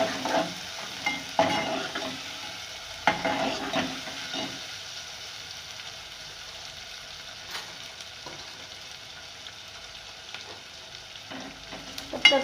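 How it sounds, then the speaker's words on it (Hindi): Onions and cumin seeds frying and browning in a pan with a steady low sizzle, broken by scraping stir strokes at intervals, close and alone without any voices. "तब तक हमारी प्याज ब्राउन हो रही है"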